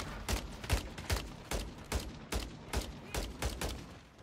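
Rapid gunfire from the video game Warzone, heard as a run of about a dozen sharp, evenly spaced shots at a moderate level with no talking over them.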